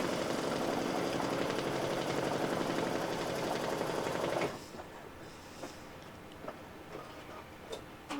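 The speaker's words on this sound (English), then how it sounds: "the design is finished stitching out" An embroidery machine stitching out an in-the-hoop keyfob design runs with a dense, steady mechanical chatter for about four seconds, then stops abruptly, leaving only faint scattered ticks and clicks in a quiet room.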